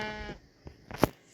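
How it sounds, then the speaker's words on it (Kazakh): A Minecraft sheep bleats once in survival mode, a clear, near, wavering call, followed by a couple of soft clicks and a sharper thump a moment later. "Бұған әлі қойлар бар екен"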